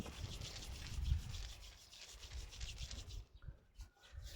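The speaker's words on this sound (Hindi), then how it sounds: "बराबर, चलो रगड़ो, पूरा रगड़ो," Palms rubbed briskly together in a steady, continuous swishing friction, close and fairly quiet, briefly easing toward the end.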